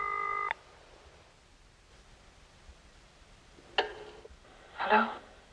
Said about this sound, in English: The number being dialed was identified as Monitor